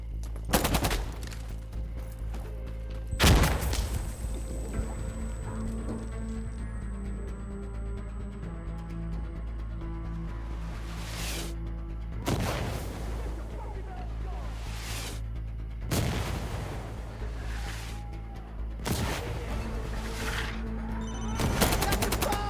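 Heavy gunfire and mortar blasts fill a match on the Power Plant map in Checkpoint mode of Insurgency: Sandstorm. Several loud explosive bursts rise over a constant rumble of battle, and voices shout throughout.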